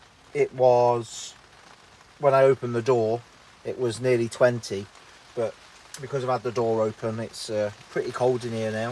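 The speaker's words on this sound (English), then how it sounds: "I do apologise about the rain." Heavy rain drums steadily on the plastic cover of a polytunnel on a UK allotment in March. The dense patter stays in the background while someone talks close by almost throughout.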